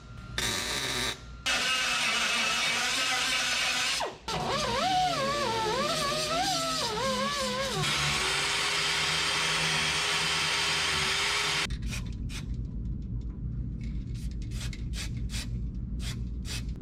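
Power sanding on the body of a 1930 Ford Model A: a loud, continuous whirring grind whose pitch wavers and shifts for about twelve seconds, then stops, leaving a run of sharp, separate clicks and taps.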